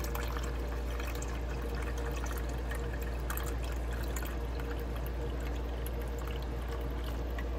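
Water is poured into a container while making L. Reuteri yogurt, a soft continuous trickle heard close but quiet over a steady low hum, with no talking.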